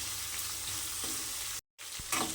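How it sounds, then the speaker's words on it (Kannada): Onions and chillies fry in a pan with a close, steady sizzle and crackle, a spatula scraping now and then as they are stirred, broken by a brief silent gap. "ಈರುಳ್ಳಿ ಸೇರಿಸ್ಕೊಂಡು ಈಗ ಚೆನ್ನಾಗಿ ಫ್ರೈ ಮಾಡ್ಕೊಳ್ತಾ ಇದ್ದೀನಿ"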